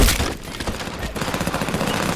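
Rapid SMG gunfire in a video game, a dense, loud stream of shots that runs steadily through the whole moment with no talk over it.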